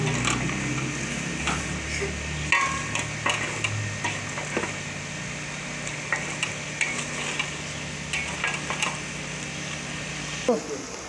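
Black chickpeas roasting in a pan give a soft, steady sizzle with repeated light ticks and scraping taps of a spoon, close by, along with some quiet background noise.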